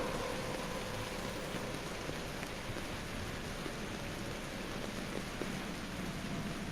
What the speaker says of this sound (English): you can hear the Okay. rain coming from it